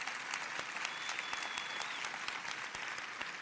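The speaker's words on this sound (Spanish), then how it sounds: "Dale un aplauso a Dios." A church congregation applauds at a Casa de Dios service, a steady dense patter of many hands clapping, moderately distant and sustained throughout with no break.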